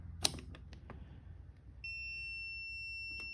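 A continuity tester emits a steady, high electronic beep while probing a switch on a 1954 Kaiser Darrin during restoration, following a few faint clicks and handling sounds.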